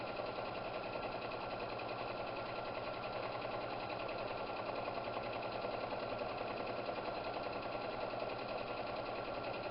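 A sewing machine stitches a tote bag in a steady, fast mechanical whir and chatter, continuous and close, with no talking.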